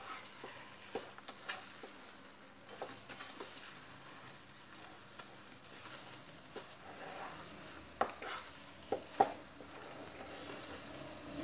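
Almonds stirred into wheat flour halwa in a pan, with soft scraping and gentle sizzling, faint and steady with occasional spoon taps against the pan.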